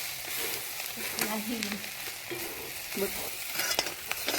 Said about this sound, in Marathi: हिंग सुद्धा आपण भाजून घेणार आहोत.